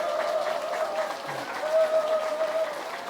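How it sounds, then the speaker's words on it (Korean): Applause from a lecture audience during a bouquet presentation at a Saturday talk, a soft, even clatter of many hands beneath a faint sustained tone, moderately distant and steady throughout. "여러분들 뜨거운 박수 다시 한번 주시기 바랍니다."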